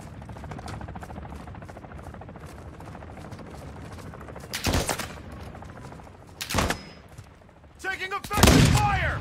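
Gunfire in Call of Duty Modern Warfare II DMZ mode, with a steady rattle of distant automatic fire and a helicopter-like drone, broken by several loud, close bursts of shots near the end.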